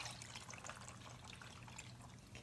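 Rice-rinsing water poured steadily from a container into a pot of mackerel stew, a continuous soft splashing trickle close by, unbroken for the whole stretch with no talking.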